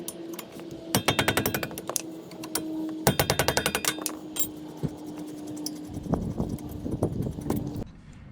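Loosening two 14 mm brake caliper bolts on a 2005 Toyota Corolla, heard as rapid bursts of ratcheting or impact-tool clatter with sharp metallic clicks and knocks between them, close and alone.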